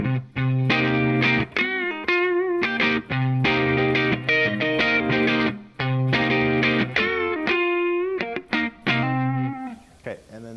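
Electric guitar through a Tortuga Yeti fuzz distortion pedal, with a heavy, saturated distortion tone, plays choppy chords and sustained notes, loud and close, with brief gaps between phrases.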